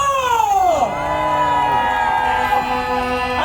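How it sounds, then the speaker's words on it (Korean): Crowd at a street candlelight rally cheering for a couple, loud voices whooping and shouting in sliding, pitched cries that rise and fall over a dense background of many people, close and continuous. "박수 크게 해주십시오"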